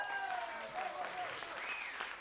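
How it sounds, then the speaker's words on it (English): Theater audience applauding itself at a variety show, a continuous crowd clapping with whoops and cheering voices rising over it. "Give yourself a round of applause."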